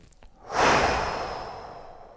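A single deep, drawn-out breath, close and clear, taken during a golf stretching routine, swelling quickly and then slowly fading over about a second and a half.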